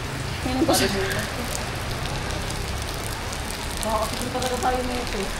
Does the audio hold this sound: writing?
no